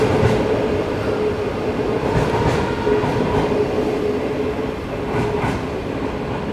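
A train on the China–Laos Railway rolls steadily along the rails with a constant low rumble and faint rhythmic clatter, heard from inside a carriage.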